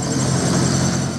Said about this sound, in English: started up the engine